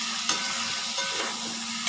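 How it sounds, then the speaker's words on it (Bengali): Chicken being stirred and fried in a pan, with a steady sizzle and a few sharp scrapes of the spoon against the pan, close and continuous with no talking. "ততক্ষণ নাড়াচাড়া করে কষিয়ে নেব।"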